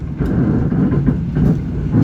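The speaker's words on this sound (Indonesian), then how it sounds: "Kereta api Argo Bromo Anggrek telah mengakhiri perjalanannya di stasiun Surabaya Pasar Turi." The Argo Bromo Anggrek passenger train at Surabaya Pasar Turi station gives a steady, low rumbling drone with faint scattered knocks, close and fairly loud throughout, with no voices.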